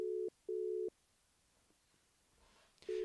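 Outgoing phone call tone repeating in steady pulses of a single pitch, two beeps, a long pause, then the tone starting again, fairly clear and not masked by any talk.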